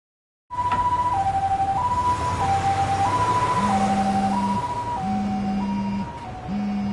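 An ambulance siren in the video game Lost Judgment wails in a steady two-tone cycle, alternating high and low pitches, loud and close throughout, over a low engine-like rumble.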